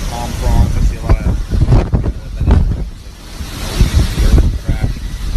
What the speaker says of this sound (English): A lot of waves. Again, a lot of these storm gusts along the water.